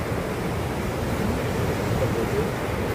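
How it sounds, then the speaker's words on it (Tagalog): Ocean waves wash against a rocky beach with clear water at Cabacungan beach in Northern Samar. The surf makes a steady, close, dense rushing roar with no clear breaks and no talking. "Hindi nakalakas ng alon."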